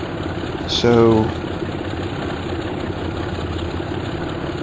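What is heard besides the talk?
train locomotive engine in OpenRails simulator video game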